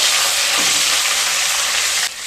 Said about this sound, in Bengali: টমেটো দিয়ে একটু নেড়ে নেবো